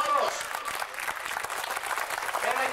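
A stadium crowd at the Corinth ground applauds steadily, a dense wash of clapping that swells at the start and holds through to the end.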